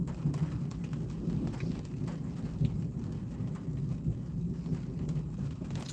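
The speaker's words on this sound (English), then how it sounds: "I'll go live for this thunderstorm" A thunderstorm rumbles with low, rolling thunder over a constant wash of rain, the rumbles swelling and fading without a break and no voices heard.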